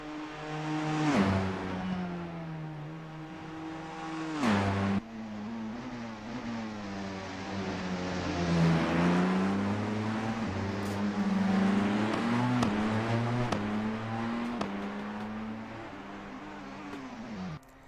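Race car engine in the Assetto Corsa video game during a Le Mans qualifying session, a loud, sustained whine that rises and falls through repeated gear shifts and revs, steady and close with no talk.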